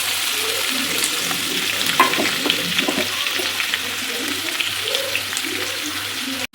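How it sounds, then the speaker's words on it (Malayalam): Crushed onion, ginger and garlic frying in oil as the base for a simple chicken curry, with a steady close sizzle, a few stirring scrapes and light clinks, and no speech. "നമ്മൾ ചതച്ച ഉള്ളി, ഇഞ്ചി, അതേപോലെ വെളുത്തുള്ളിയൊക്കെ ചതച്ച് വെച്ചിട്ടുണ്ട് കേട്ടോ. ഇത് നമ്മൾ ഇതിൻ്റെ അകത്തേക്ക് ആദ്യം തന്നെ ഇട്ട് കൊടുക്കാം."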